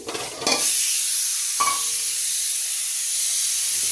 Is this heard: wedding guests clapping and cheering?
no